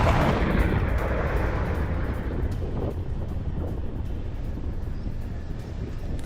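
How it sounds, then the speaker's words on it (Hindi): A guided bomb blast destroys a building in Beirut's Dahiyeh district, heard as a heavy, booming low rumble that is loudest at the start and slowly fades into rolling noise, with no talk. "बेरूत के दहियेह इलाके में ये इमारत तबाह हुई है और गाइडेड बॉम्ब से हिजबुल्लाह का ठिकाना ध्वस्त"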